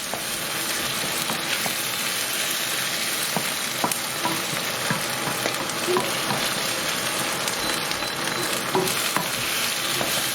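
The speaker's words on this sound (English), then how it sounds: "Give it a mix." Chicken rogan josh in a pan gets stirred over steady frying sizzle, with scattered scraping clicks of the spoon through ten seconds of continuous, close cooking noise.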